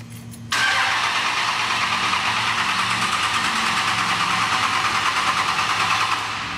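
A Cummins diesel engine catches on its first start after the fuel system is primed. It settles into a loud, steady, rumbling idle that runs alone for several seconds.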